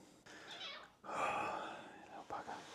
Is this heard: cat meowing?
yes